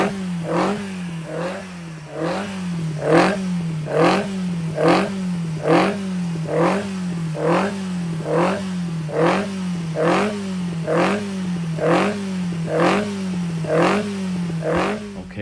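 A five-bearing 1200 sand-cast Imp engine fitted with an experimental Climax FWH head runs steadily with a lumpy, rhythmic idle, each beat sharp and clattery, close and fairly loud throughout with no voices.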